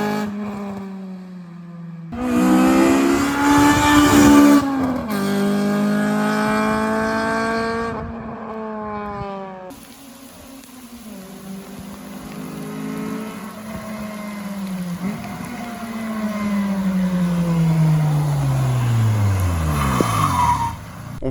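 A Honda Civic EK4 fitted with new coilovers and upper control arms drives on the road, its engine loud and close, revving up through rising, falling gear pulls with a brief squeal near the end.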